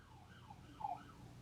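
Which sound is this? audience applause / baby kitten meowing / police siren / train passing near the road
police siren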